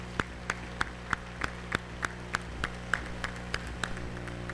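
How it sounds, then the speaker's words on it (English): Sparse, evenly spaced hand claps from a small audience at a school district retirement reception, about a dozen distinct claps over a steady room hum, moderately distant and fairly quiet. "Let's give all of you a round of applause."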